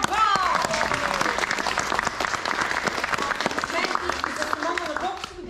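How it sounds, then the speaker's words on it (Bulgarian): Sustained audience applause at a theatre school performance, dense clapping throughout with a presenter's voice speaking over the crowd. "Аплодисменти за нашия единствен мъж Гого!"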